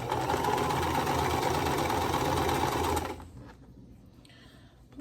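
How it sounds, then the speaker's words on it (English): A sewing machine stitches quilt block pieces in a fast, steady mechanical whir for about three seconds, then stops abruptly and leaves a quiet room. "So we're just sewing down the side this time."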